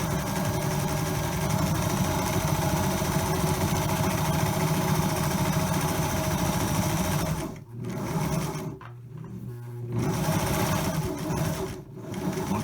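A sewing machine stitching a cloth mask runs steadily, its rapid mechanical stitching humming continuously before briefly pausing and starting again near the end.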